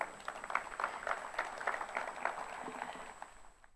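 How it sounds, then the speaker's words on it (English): A conference audience claps for a session moderator at a FinTech regulatory event: a soft, distant patter of many hands, fairly even and fading toward the end, with a faint steady tone underneath. "please also a round of applause for our moderator for this session"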